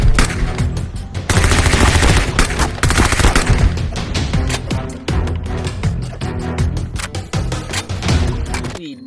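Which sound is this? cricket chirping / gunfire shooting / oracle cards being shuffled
gunfire shooting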